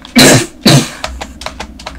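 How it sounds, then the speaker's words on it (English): A person coughs twice in quick succession, loud and close, followed by a few softer throat sounds and small rustles. "Okay, I have a terrible bad cough."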